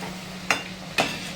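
Cabbage fritters frying in hot oil, a low steady sizzle with two sharp utensil clicks against the pan, close and without speech.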